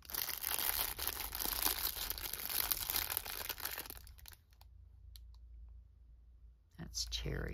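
Packaging crinkles and crackles in a dense burst of rustling for about four seconds, close and fairly loud, then fades to a few sparse clicks and a brief crinkle near the end.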